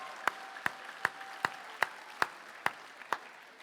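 Hand claps at a Māori community anniversary show, about nine slow, evenly spaced, sharp claps in a steady rhythm over a quiet background, close and moderately loud.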